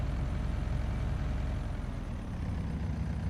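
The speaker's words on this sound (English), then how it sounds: "I never thought in a million years this little tractor could handle this mower" A small farm tractor with a mower attached runs at a steady, loud idle, its low engine rumble continuous and close with no talking.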